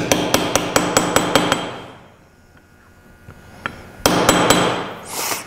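An old bushing hammered in to seat a starter seal on a Ford Model T, eight quick, sharp metallic blows in an even rhythm, then a quiet pause and a renewed louder burst of clattering, close with no speech.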